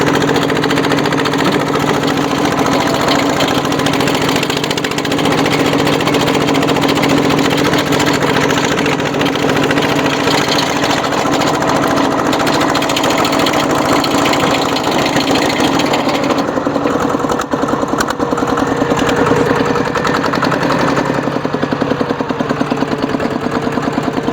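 A modified farm tractor, converted for cassava and sugarcane rows and fitted with a rotary tiller, runs steadily in first gear, its engine a loud, continuous drone close by with no talk over it.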